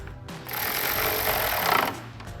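A power ratchet or similar tool tightens a 10mm bolt in front of a vehicle's hood latch, sounding as a close, loud buzzing whir that lasts about a second and a half.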